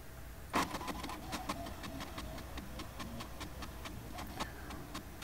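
An HP printer scans a blank page, making a steady mechanical whir punctuated by regular rapid clicking ticks from the moving scan head, close and moderately loud.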